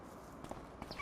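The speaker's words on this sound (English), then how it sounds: "I hear the footsteps," Footsteps in Farming Simulator 25 on a snowy morning, a few soft, quick steps over a short span with faint background hum and no voices.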